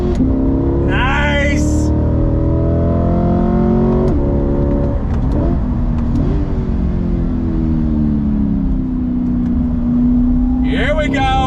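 A 2021 C8 Lingenfelter Corvette accelerates hard on throttle, its engine note climbing loud and close through repeated gear shifts, the pitch rising then dropping at each change, with a brief comment spoken over it.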